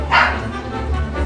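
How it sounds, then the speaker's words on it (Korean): Several dogs at a dog café in Pocheon, Gyeonggi Province, let out a short, loud bark and yip up close, with lighter yelping behind it. "반기는 강아지들"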